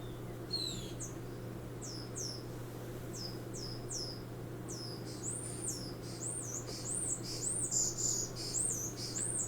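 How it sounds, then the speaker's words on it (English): A noisy bird calls repeatedly in quick, squeaky chirps and swooping whistles that grow busier and more continuous, heard over a steady low hum with no speech. "Ooh, a very noisy bird has started up. It has got some amazing sounds to share with us."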